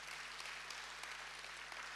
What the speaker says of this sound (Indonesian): tepuk tangannya yang paling meriah.